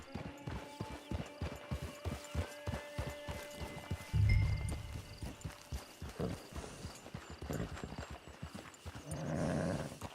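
Horse hooves clip-clop at a steady trot in the Red Dead Online video game, evenly paced and close, with a brief heavier thud partway through.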